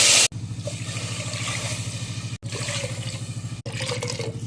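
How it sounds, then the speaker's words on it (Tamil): Water is poured into a pot for barnyard millet rice pongal in several close, steady streams, each a gurgling, rhythmically pulsing fill broken by brief pauses between pours. "ஒரு கப் அரிசிக்கு 4 கப் தண்ணி ஊற்றலாம்."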